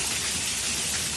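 Heavy rain pours down steadily in Dallas-area storm news footage, a dense, loud, continuous hiss of rainfall with no pauses or voices.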